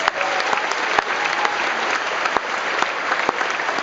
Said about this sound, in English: Again, give yourselves a round of applause, please.